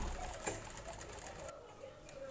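A sewing machine side-stitching a latkan dhori, a decorative tassel cord for a lehenga, whirs steadily up close throughout, easing slightly quieter partway through.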